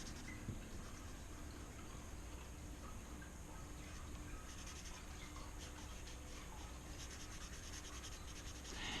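A marker scratches steadily across paper while a drawing's area is filled in, a faint, continuous rubbing texture with small repeated strokes and no voices.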